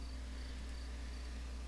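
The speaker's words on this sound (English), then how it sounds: "those crickets in the background. You hear that? Super loud." Crickets chirp without pause in the nighttime background, a faint and even insect trill that carries on alone with no voices.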